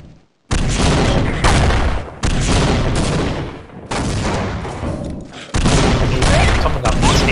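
Tommy Gun fire in the Science & Industry multiplayer game, loud sustained automatic bursts in several long volleys separated by brief pauses, close and dominant.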